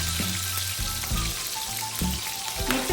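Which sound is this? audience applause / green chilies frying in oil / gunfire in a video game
green chilies frying in oil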